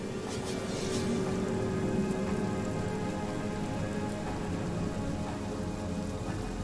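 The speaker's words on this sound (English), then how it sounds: "Now what I'm gonna do is I'm gonna actually cast Rain." Steady heavy rain from a cast Rain spell in the video game Divinity: Original Sin, a dense continuous hiss of downpour on surfaces with faint low rumbles, loud and unbroken with no talking.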